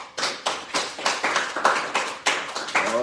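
A church congregation claps in a steady rhythm, loud and near, with about a dozen evenly spaced beats of hand clapping and no talk.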